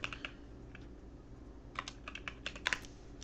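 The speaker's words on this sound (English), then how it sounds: "I was typing" Keys clatter on a computer keyboard in short irregular bursts, close and fairly quiet, with a steady low background hum beneath.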